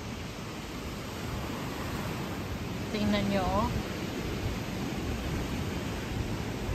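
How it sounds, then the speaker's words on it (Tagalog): Waves wash steadily on the shore at Albufera natural park in Mallorca, a soft continuous surf noise with a person speaking briefly over it. "Masarap pakinggan ng alon."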